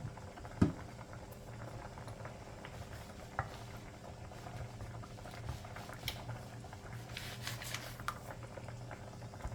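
Pasta water boiling on a stove, a steady low bubbling simmer running continuously with faint irregular pops and splashes, no one speaking.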